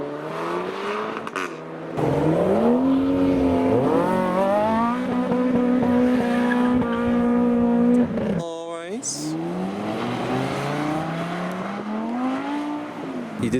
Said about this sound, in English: He did some blips. He did a spin of one wheel.